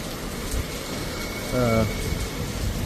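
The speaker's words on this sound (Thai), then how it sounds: "ฝนตกหนักมาก" Steady broadband hiss of heavy rain at a train station fills the scene, with a short tonal hum rising briefly in the middle.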